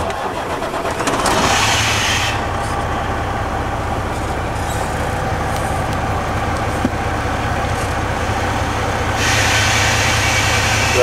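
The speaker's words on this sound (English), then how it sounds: "So this truck does have a push button start." A 2005 Freightliner Classic truck engine cranks by push button start and catches, then settles into a loud, steady diesel idle, with a brief louder swell near the end.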